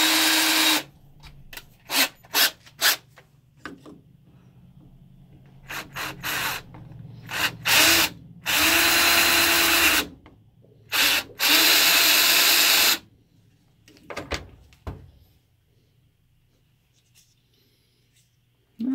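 A power drill whirs in short bursts and a few longer runs while drilling a hole for a Kawasaki KE100 motorcycle gauge modification, loud and close, separated by quiet pauses with faint handling noises.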